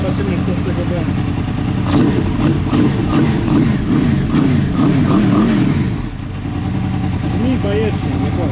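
A Honda VFR800 VTEC motorcycle engine runs at a steady idle, loud and close, with a continuous throaty rumble from the exhausts that eases slightly toward the end; someone talks over it.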